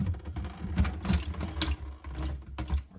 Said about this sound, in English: A little bit of water is going to come out.